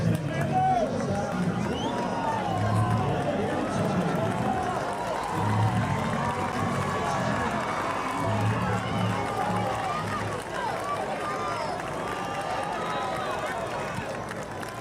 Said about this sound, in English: St. Rita's crowd is making some noise here.